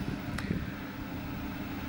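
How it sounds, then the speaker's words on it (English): Electric fan running on a hot day, a steady broadband whir at low level, continuous and unchanging, with no voice. "If you can hear a whir in the background, I do apologise, but I've got to have the fan on today."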